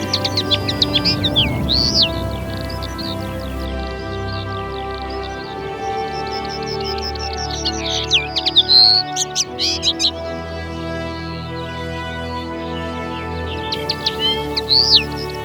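Many wild birds sing and chirp in a natural area of plains near Ploufragan, Brittany, with varied calls and trills running steadily over low background rumble, some songs close and bright.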